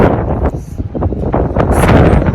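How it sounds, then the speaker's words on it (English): Strong wind buffets the microphone in a loud, rumbling rush that gusts and swells without pause. "Out here it's so windy that me I freeze."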